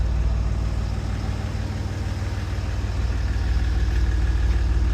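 A Jaguar XF 3.0 twin-turbo engine idles smoothly after an alternator replacement, a steady, close mid-to-low hum with a faint regular pulse and no talk over it.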